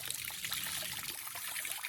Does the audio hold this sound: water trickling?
yes